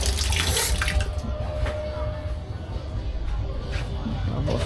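Water runs steadily from a tap in a campsite restroom by a river, a continuous close rushing splash with a faint background murmur of voices.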